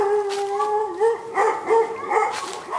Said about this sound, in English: All they know is that there's barking going on.